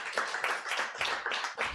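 An audience applauds poets at an evening poetry reading, with steady clapping that swells in several waves across the short stretch, fairly close and full.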